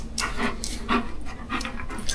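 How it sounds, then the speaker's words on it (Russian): Dogs pant in quick, rhythmic breaths close by in a home kitchen, a steady run of short huffing puffs with no talk over them. "Собаки ждут свои дозы."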